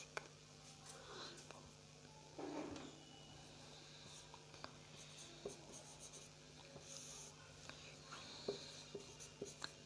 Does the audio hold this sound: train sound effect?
no